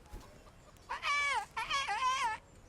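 A voice imitates birdsong in Kingdom Come Deliverance, warbling two short, wavering phrases that sound somewhat like clucking. The phrases are close, with quiet pauses before and between them.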